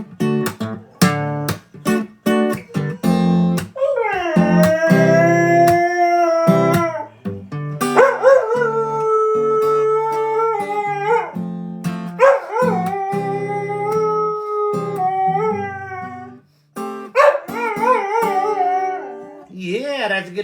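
A dog howls loud and close in long, wavering, sung tones, with short yips and whimpering breaks between the drawn-out notes.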